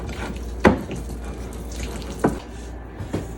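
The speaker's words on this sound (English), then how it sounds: "So let's add a little bit more water." Water trickling from a tap into lemon cookie icing as it is mixed, a few short splashy bursts over a low running background, close and moderately loud.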